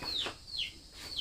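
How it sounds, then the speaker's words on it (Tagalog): Farm chickens kept in a netted pen, a few soft clucks and short squawks repeating close by at low volume, with no talk. "Siyempre dito titingnan natin yung alaga nating manok."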